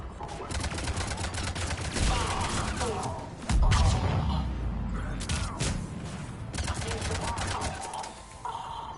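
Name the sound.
cannons firing in Mass Effect 3 video game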